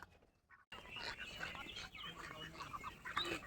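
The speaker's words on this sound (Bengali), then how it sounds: "যখন হাঁসগুলোকে বাইরে বের করে দিই একসঙ্গে সবাই একসঙ্গে যায়" A small flock of domestic ducks quacks and honks in a busy overlapping chatter as they head outside together in the morning, fairly faint and at moderate distance, after a brief quiet start.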